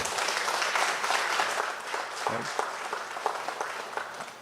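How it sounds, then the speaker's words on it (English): An audience applauds at a party constituency conference, a full, steady round of clapping with crisp individual claps, easing slightly in the second half. "a round of applause, please."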